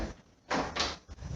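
A bathroom door opening indoors in a small house, heard as two loud broadband bursts in quick succession followed by a softer knock, fairly close with no talking.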